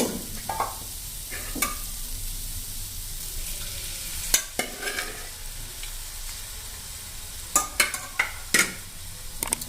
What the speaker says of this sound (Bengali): এবার আমরা এর মধ্যে একটুখানি দুধ দেব।